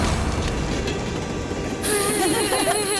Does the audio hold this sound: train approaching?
yes